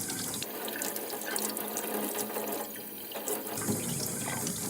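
Tap water runs steadily into a sink while a sponge is rinsed after cleaning a linoleum printing block, a close, continuous splashing flow with faint clinks and no talking.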